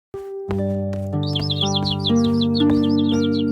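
Birds chirp repeatedly in a forest, high twittering calls running over a sustained musical drone and other background sound.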